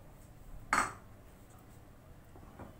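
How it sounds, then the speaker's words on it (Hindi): Soaked rice tipped into a pot for kheer lands with one sharp metallic clatter. Faint utensil clinks follow in an otherwise quiet kitchen. "अब इसमें हम ये राइस ऐड करेंगे।"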